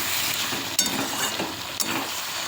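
Chorchori of white stalks with ridge gourd, potato and pumpkin cooking in a pan, a steady soft sizzle with a couple of brief clinks of a utensil stirring, close and continuous.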